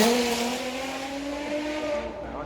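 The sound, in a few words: two-seat sports car engine passing by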